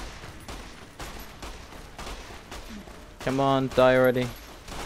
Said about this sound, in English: let's use my gun here.